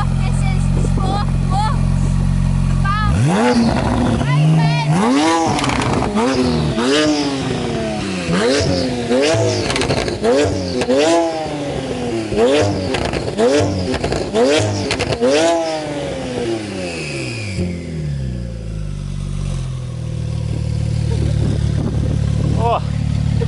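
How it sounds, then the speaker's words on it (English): A 900bhp Porsche 911 Turbo S convertible with a catless exhaust fires up and revs hard in a string of loud, rising and falling bursts, then settles into a deep, rumbling idle. "So I might have to shout because the car is really loud."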